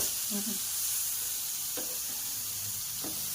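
Large brinjal (pedda vankai) slices roasting on a hot tawa, a steady close sizzling hiss throughout with a few faint clinks and taps of a utensil.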